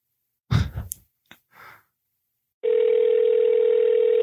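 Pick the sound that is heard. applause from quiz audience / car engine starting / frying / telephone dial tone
telephone dial tone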